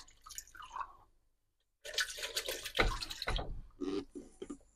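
Water pours for cendol in a close, bubbling stream that stops briefly, then returns as a louder, gurgling pour with uneven splashes.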